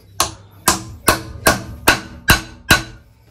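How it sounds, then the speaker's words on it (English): A hammer drives a bearing cap onto a Dodge Ram 1500 front U-joint, seven sharp metallic strikes at an even, steady pace, close and loud with no talking. "Gonna put it right on top of the U-joint. I'm gonna hammer that in as also."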